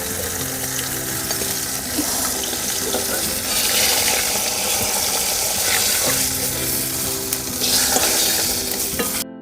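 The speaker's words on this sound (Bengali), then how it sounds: "মাছগুলো ভাজা হয়ে গেছে এবার তুলে নিচ্ছি" Fish sizzles steadily in hot oil, close and fairly loud, with occasional scraping and clinking from a utensil in the pan.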